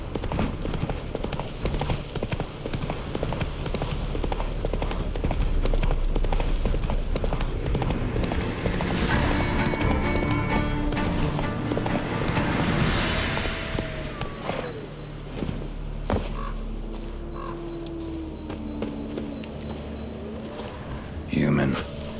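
A horse gallops in The Witcher 3 video game, a steady, close drumming of hooves lasting throughout, with game music and voices talking over it.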